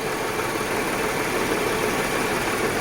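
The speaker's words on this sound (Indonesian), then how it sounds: "Ada getaran mesin dan RPM menjadi rendah." A car engine runs rough with one fuel injector disconnected, giving a loud, steady, close idle with a dense noisy rumble and vibration and no talking.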